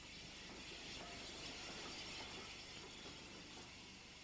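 A grimy unrebuilt Pacific steam locomotive, Wilton, calls at Basingstoke station, giving a steady broad rumble and hiss of rolling stock with faint rhythmic clatter, continuous and moderately distant throughout.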